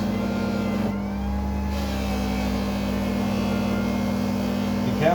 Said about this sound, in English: My grinder has some weird issues where it's jumping in RPMs.